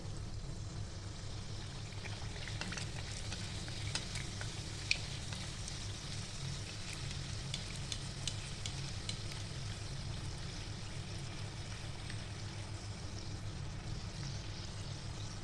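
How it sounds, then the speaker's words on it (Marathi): Filled karanji pastries fry in hot oil, a quiet, steady sizzle with small crackles and pops that runs evenly throughout. "आता आपण इथे तेल तापवायला ठेवलेलं आहे आता आपण मग अशी ज्या करंज्या लाटून घेतलेल्या भरून घेतल्या त्या आपण एक एक करून टाकूया"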